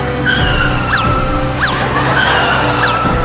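A three-wheeler tempo engine in poor condition runs steadily close by with a low, droning rumble, while repeated short squeaky chirps rise and fall over it.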